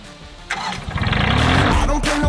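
A tractor engine cranks and catches, quickly building into a loud, close, rapidly chugging idle that carries on steadily after the start.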